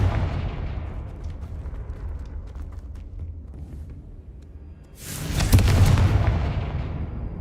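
A Confringo spell explodes in a Harry Potter video game: after a low rumbling ambience, a sudden loud, broad blast erupts and lingers as a roaring wash before easing slightly.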